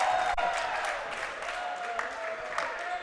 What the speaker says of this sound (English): Standing and giving an ovation to the official for calling a foul